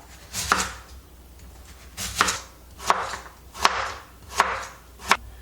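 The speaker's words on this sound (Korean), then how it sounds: "무는 조금 넓게 무생채 하듯이 크게 할 게 아니라 조금 넓게 넓적하게 썰을 거예요." Six crisp knife chops slice a radish into wide, flat pieces on a cutting board at a steady, unhurried pace, close and clear with quiet pauses between each cut.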